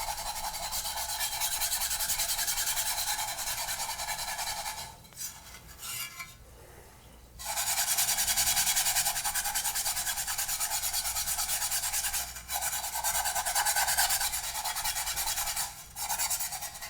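Fine grit sandpaper scrubs a surplus steel magazine, a close, bright, hissing scratch in sustained strokes broken by a few short pauses and a longer gap midway.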